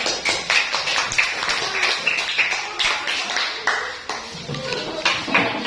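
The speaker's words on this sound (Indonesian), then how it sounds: "silakan tepuk tangan untuk temannya" Students in a grade 7 classroom applaud a group of classmates with scattered, uneven clapping, sharp taps rising and falling throughout at a modest level.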